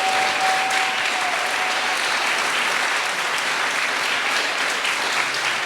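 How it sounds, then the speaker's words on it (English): An audience at a housing tower's grand opening claps steadily for several seconds, a dense even wash of applause with no pauses. "I'd like a round of applause for some of our future residents who are sitting in the audience."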